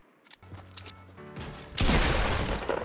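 Video game gunfire aimed at the sky: a few light mechanical clicks give way to a loud, dense burst of rapid shots that keeps rattling to the end.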